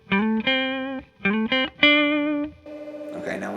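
An electric guitar plays short, clean-cut phrases of notes with no delay effect, so each note stops dry without echoing repeats. A brief, rougher noisy burst follows at the end.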